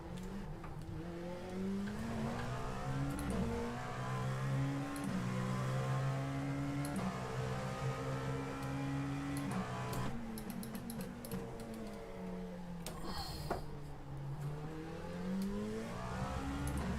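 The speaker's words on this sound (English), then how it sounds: "You can hear how much the engine's slowing through that turn now." A race car engine in a racing video game set at Spa, revving and shifting continuously with rising and falling pitch through turns, with keyboard tapping close by throughout.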